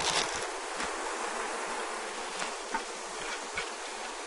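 Honey bees at a hive, a dense continuous buzzing swarm that is close and steady, with faint rustling and small knocks underneath and no voices.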